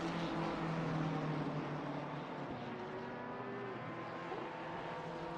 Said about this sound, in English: Here's Spencer Braun for the Braun GP Brando team, running the number 7 Porsche.